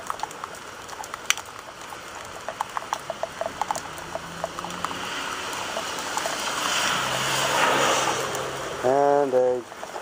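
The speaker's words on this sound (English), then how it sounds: "And a car just went down my street." A car passing along a rain-soaked residential street: steady rainfall with dripping ticks, then a swelling tire hiss on wet pavement that peaks and fades, followed by a brief mechanical rattle.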